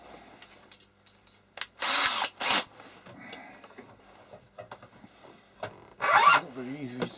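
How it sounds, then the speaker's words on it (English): A drill bit cuts into steel rivets during an HP 3457A multimeter repair, in two short grinding bursts followed later by a third. Quiet talk and small handling noises fill the gaps between them. "Not much fun watching me drill rivets out,"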